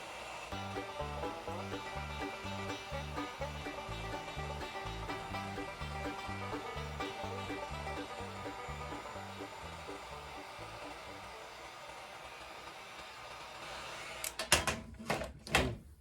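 A heat gun runs steadily as a steady blowing roar with a rhythmic low pulsing under it, used while heating and bending material for a homemade rechargeable flashlight; a few sharp knocks and handling sounds follow near the end.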